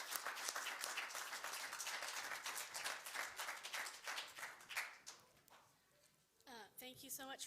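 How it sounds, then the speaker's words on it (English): A crowd applauds steadily with dense clapping for several seconds, fading out near the end as a person begins speaking. "So will you give God a round of applause as Ashley comes and shares?"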